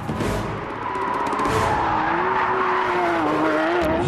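A Porsche GT3 RS driven hard on a race track screams at high revs, its engine note rising and shifting steadily while the tires squeal, loud and close throughout.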